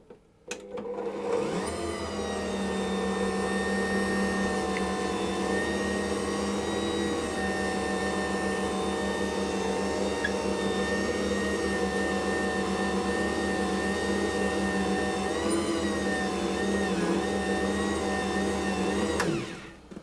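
An Ankarsrum stand mixer hums steadily while gently mixing flour into a shaggy teacake dough, a continuous motor drone that starts abruptly, holds an even level for about twenty seconds, then cuts off.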